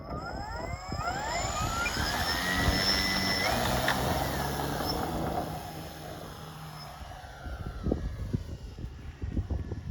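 An electric Seagull Westland Lysander model plane on its maiden flight at a model flying club, its motor whining and shifting pitch as it passes fairly close, steady throughout with wind noise and brief rustles near the end.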